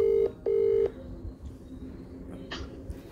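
A mobile phone call rings out on the caller's end: two short electronic ringback tone bursts in quick succession, clear and close, followed by quiet line noise and faint background sounds.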